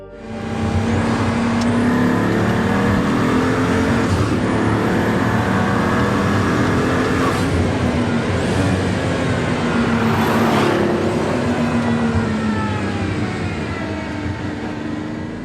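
A Pagani supercar with a hand-built Mercedes-AMG engine drives steadily, its loud, continuous engine note rising slightly in pitch, with brief whooshing surges along the way.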